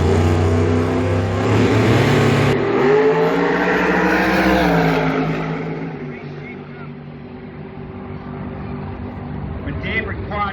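Drag race cars at an NHRA national event at St Louis dragway roar loudly with layered engine harmonics rising in pitch, then fade toward a lower rumble, with announcer-style voices over the top.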